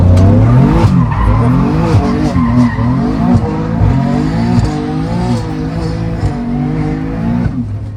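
A Zestek SCX remote-control car drifts on a road, its small tires squealing and skidding continuously with a whining electric motor rising and falling, loud and close throughout.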